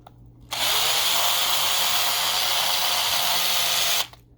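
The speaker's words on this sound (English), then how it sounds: "I'm watching the camera and not my drill." A power drill whines steadily at high speed for about three and a half seconds while enlarging a hole in a Matchbox Tyre Fryer toy car, starting and stopping abruptly, close and loud.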